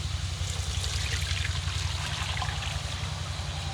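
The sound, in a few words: draining hot water from soaked rice noodles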